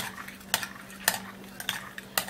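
Spoon stirring a milk mixture for a face mask in a bowl, producing sharp periodic clinks against the sides about every half second over faint background hum.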